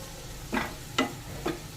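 Masala being stir-fried with eggplant in a pan for a hilsa curry, three short scraping stirs over a faint steady sizzle, close by.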